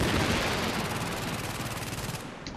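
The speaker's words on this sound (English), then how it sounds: "I don't know why I'm using my shotgun." Dense, rapid gunfire from the video game The Division, where a shotgun is in use, fills the whole stretch with loud overlapping blasts and rattling bursts, no talk over it.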